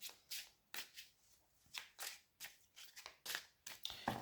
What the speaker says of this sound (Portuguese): Vamos ver, baralhar um pouco.